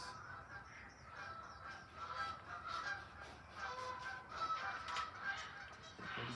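A flock of geese honking repeatedly from a moderate distance, overlapping calls forming a steady, noisy chorus with no talking.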